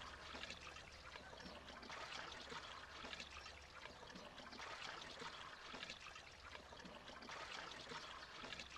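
Faint, steady trickle of water leaking from a broken truck radiator in The Slaverian Trucker game, a soft continuous dribbling hiss over a low hum.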